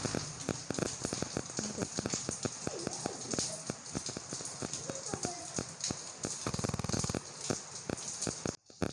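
Rain starting to fall, with dense, irregular drops pattering sharply on a nearby hard surface throughout, while people talk over it.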